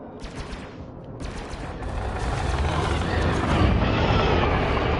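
Ship lasers in the space combat game Elite Dangerous fire in a continuous, dense, rattling barrage with harsh broadband crackle that swells louder over a few seconds, with no talk over it.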